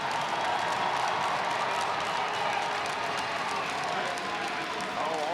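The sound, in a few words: applause for seniors at RIT hockey game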